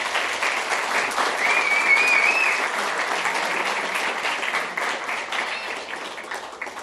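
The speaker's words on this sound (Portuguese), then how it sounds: "Uma salva de palmas para ele, por favor." An audience at a seminar on the Russian Revolution claps for the board director, a dense, even wash of applause sustained throughout at moderate loudness.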